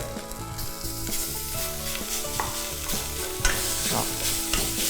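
Ground pork sizzles and crackles loudly in a hot pan with fragrant curry paste while a utensil scrapes and stirs in irregular strokes.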